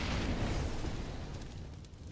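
A grenade explodes on the Cobblestone map in a Counter-Strike match, a loud broad boom that fills the clip and slowly fades, with no talk.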